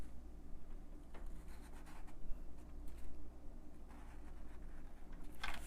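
A marker scratches and rubs across paper in short strokes, drawing lines with soft, close squeaks and pauses between strokes, no voices.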